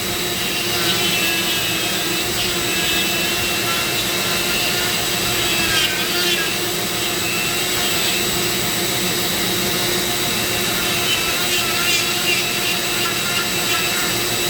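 A Dremel flex shaft spinning a taper burr at about 20,000 RPM while carving a paduak wood pumpkin gives a steady, loud high-pitched whine with grinding texture, continuous throughout with no talk.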